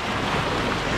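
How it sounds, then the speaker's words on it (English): Ocean wave crashing and splashing near an angler during silver salmon fishing at Valdez, a dense broadband wash of surf and spray filling the whole second, close and loud with wind noise. "Why did the wave have to hit then?"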